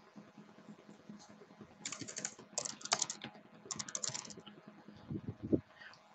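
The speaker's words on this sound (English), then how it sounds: "or you can add categories by typing in." Keys clatter on a computer keyboard in quick bursts of typing, close and crisp, with short pauses between runs and a few heavier thumps near the end.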